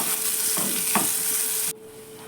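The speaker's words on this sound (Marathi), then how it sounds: "मोहरी टाकली आहे मोहरी तडतडली जिरे टाकलेत आणि कांदा टाकला आहे बघा चांगला सोनेरी रंग येईपर्यंत परतून घ्यायचा आहे" Onion sautéing in hot oil with mustard seeds and cumin, a close, bright sizzle with a couple of stirring scrapes, cut off sharply near the end to leave faint background hiss.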